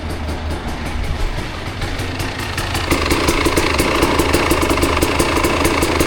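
A KTM hard-enduro motorcycle idles close and steady in a forest setting, its engine note rising to a louder, busier running tone partway through and holding there.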